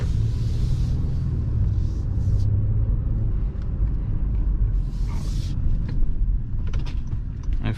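A 2020 Honda Passport EX-L on the move gives a steady low road and engine rumble heard from inside the cabin, with a few faint clicks and rattles over the top.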